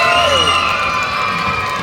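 A school audience, children among them, bursts into loud, sustained cheering and whooping at a dragon-themed show, close and filling the space without a break.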